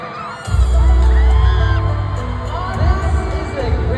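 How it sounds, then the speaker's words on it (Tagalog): Loud booming fireworks bursts with crackling trails over water during a fan meeting finale, while a crowd whoops and cheers throughout. "Water below, and then fireworks."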